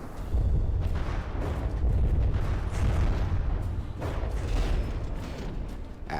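Torpedoes detonating against ships in the naval combat game From the Depths, a sustained run of deep, rumbling low booms with rolling blasts and crackle layered continuously, loud and dense throughout.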